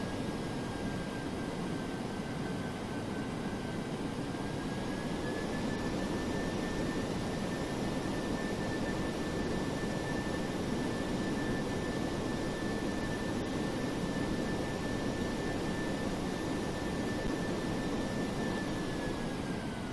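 Simulated jet engines of a DC-8-73F freighter taxiing in FSX on a snowy Buffalo airport taxiway: a steady, fairly quiet broadband roar with a high whine holding constant throughout, no voices.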